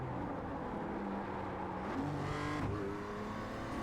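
A race car engine in a racing video game drops in pitch as the car brakes wide into a corner, then whines back up through the gears. The engine drones steadily and close by, with no voices.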